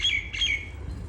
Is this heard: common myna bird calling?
yes